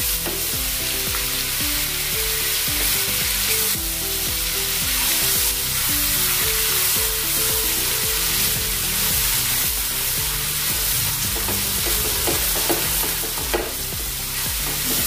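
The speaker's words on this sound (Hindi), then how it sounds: "एक मिनट इसको भून लेंगे" A paste of chana dal and onion fries in a pan, giving a loud, dense, continuous sizzle with stirring and scraping close by throughout.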